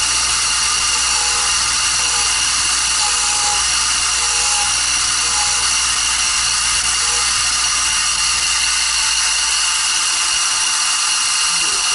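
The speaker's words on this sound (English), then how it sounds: "Okay, we're at the disc sander here, and this is pretty easy." A disc sander grinds a football head jig in a workshop with a loud, continuous high-pitched whine that holds steady throughout, close to the microphone.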